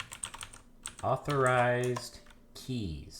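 Quick keyboard clicks while commands are typed into a terminal text editor to set up SSH keys, followed by someone speaking over the keystrokes.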